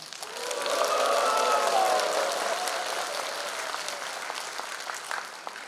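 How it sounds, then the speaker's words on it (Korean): Audience applause with some cheering at a National Assembly member's constituency report meeting, a steady broad clapping wash that swells early and then slowly tapers, with no talk over it. "그럼 지금부터 국회의원 박홍근 의정부의회를 여러분들의 큰 박수와 함성으로 시작하겠습니다"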